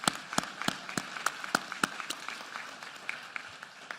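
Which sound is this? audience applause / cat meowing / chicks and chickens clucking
audience applause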